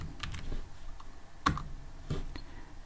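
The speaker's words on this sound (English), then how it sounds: "I'm gonna get this address and I'll type cd" Quiet keyboard typing as a command is entered at a computer, a few soft scattered key clicks and taps at close range.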